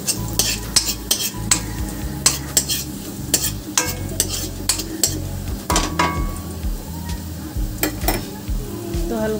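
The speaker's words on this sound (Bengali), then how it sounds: "এটা একটু হালকা ভাজা ভাজা হয়ে যাক।" Crushed garlic cloves frying in hot mustard oil in a pan, with a steady sizzle and repeated close, sharp scraping and stirring clinks of a spatula throughout, with no talking.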